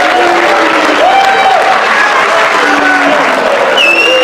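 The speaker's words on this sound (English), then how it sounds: "Let's give them a round of applause" A high school audience breaks into loud, close applause that holds steady throughout, with some whoops and scattered voices mixed into the clapping.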